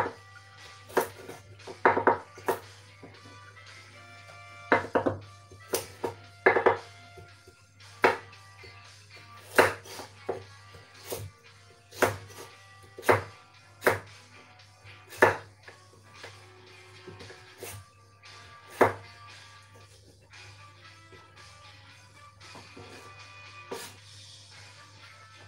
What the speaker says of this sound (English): I'm gonna make another julienne now.